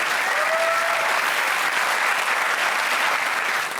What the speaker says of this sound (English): Let's have a big round of applause for Matt Windall.